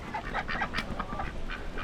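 Ducks kept at a hippie commune in New Zealand quack in a busy, overlapping flurry of short nasal calls, close and fairly steady, with no talk over them.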